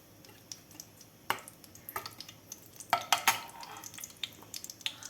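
Garlic, dried red chillies and cumin hit hot oil for an Andhra-style sambar tempering, giving soft crackles and sharp pops scattered over a low sizzle, with a few louder spits near the middle; no voices.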